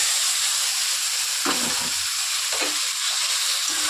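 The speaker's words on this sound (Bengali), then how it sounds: "খুব ভালো করে কষিয়ে নিয়ে এরপরের মধ্যে দিয়ে দিচ্ছি চিকেন" Chicken going into a hot pan where red chilli powder has been sautéed, giving a steady broadband sizzle with two brief stir scrapes, close and loud, with no talk.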